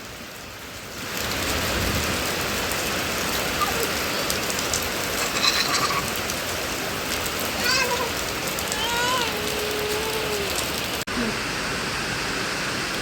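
Steady heavy rain pours down at a rural home, a dense hiss lasting over ten seconds, with faint voices and brief bird-like squeaks partway through.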